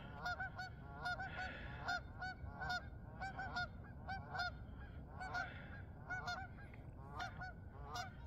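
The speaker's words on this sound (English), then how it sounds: "There's the alarm call of the geese" A flock of geese honks loudly and repeatedly in overlapping alarm calls, harsh calls rising and falling over a steady low background rumble.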